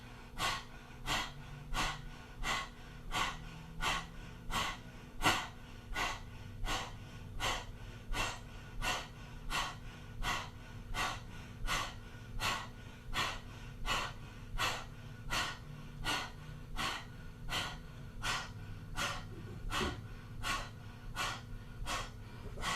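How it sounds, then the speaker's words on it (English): Rapid rhythmic panting through the mouth with tongue out during a Kundalini yoga breath of fire exercise, a long, even train of sharp, close breaths at about one per second, sustained alone without talk. "coming into a minute of breath of fire with the tongue out"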